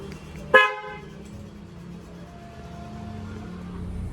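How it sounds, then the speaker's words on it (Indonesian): A Peugeot 307 or 207 car horn gives one short, sharp toot when set off by the remote key, loud and close, followed by quiet outdoor hum. "Jadi kita saat pencet itu klakson hidup dan lampu akan hidup."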